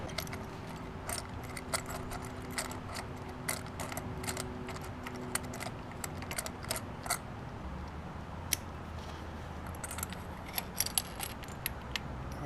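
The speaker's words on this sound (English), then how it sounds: "this tool, it just brings the spark plug right out" A spark plug tool works a plug out of a 2011 Kawasaki Ninja 250 with soft ratcheting clicks and metallic rattling, quiet and close over a faint background hiss.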